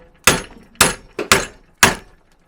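A ball peen hammer strikes a welded metal joint in destructive testing: four sharp, loud, close metallic blows with short ringing decays, spaced irregularly about half a second apart, no voices.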